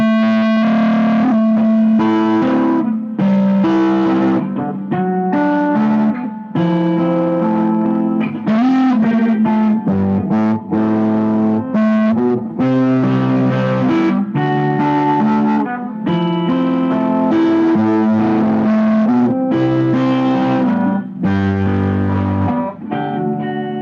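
A rock song with distorted electric guitar and driving rhythm plays continuously and loudly, sounding like a recording with no voices talking over it.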